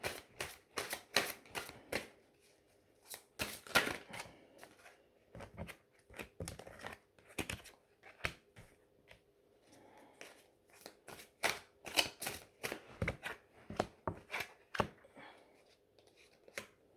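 Oracle cards from the Eternal Rose deck being shuffled by hand, a quick run of crisp riffling snaps and soft slaps repeating in bursts, close and fairly quiet with no talking.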